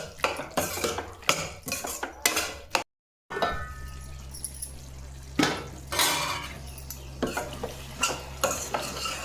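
A spoon stirs a tomato and cucumber curry in a metal pan after salt goes in, with repeated sharp scrapes and clinks in bursts, a brief gap, then more scraping over a low sizzle, all close by and without talk.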